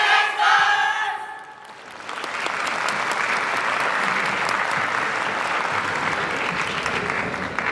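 Audience applause and cheering at a Fukushima YOSAKOI dance festival held at Koriyama Yurax Atami. A spoken line comes first, then a full, sustained roar of clapping from the crowd.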